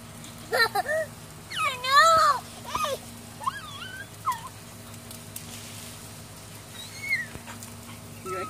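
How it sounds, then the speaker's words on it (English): A dog in a backyard gives a string of high, whiny yelps and whimpers in short separate bursts, fairly close, over a low steady background hum. "dog."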